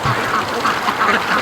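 Female Muscovy ducks at a free-range flock, heard as a close, loud run of repeated raspy quacks and calls with no pauses.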